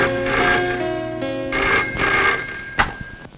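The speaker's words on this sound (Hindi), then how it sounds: "फोन बज रहा है, जाके उठाओ" A telephone bell rings loudly in a Hindi-dubbed film scene, two long ringing bursts with a short gap between them, followed by a sharp click as the phone is picked up.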